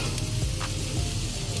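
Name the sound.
hibachi food sizzling while cooking in the rain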